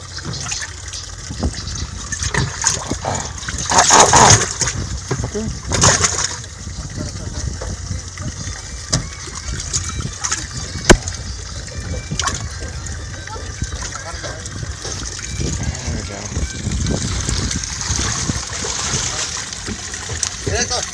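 Small fish released by hand into open water, with light splashing and trickling mixed with steady outdoor water noise, a couple of louder splashy bursts early on, and people talking nearby.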